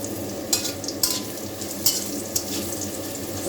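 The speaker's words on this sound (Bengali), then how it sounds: "উচ্ছেটা ভাজা হচ্ছে" Bitter gourd fries in a pan for a home lunch, with a steady close sizzle and occasional sharp scrapes and clinks as the pieces are stirred.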